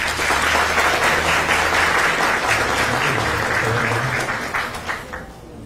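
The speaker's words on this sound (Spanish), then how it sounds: "pedimos un fuerte aplauso" Sustained audience applause at an award presentation following a lecture, dense steady clapping filling the room for several seconds before thinning out at the end.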